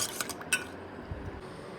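A spoon scrapes and clinks against a metal pot while stirring a powder mixture, producing a few quiet, close taps and rattles that fade into soft swishing.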